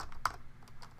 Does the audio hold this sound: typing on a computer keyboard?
yes